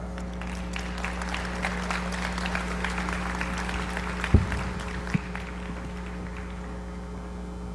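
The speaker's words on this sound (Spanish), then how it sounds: "Brindémosle un caluroso aplauso" Continuous applause from an audience fills the room, a steady wash of clapping over a low electrical hum, with a couple of brief thumps.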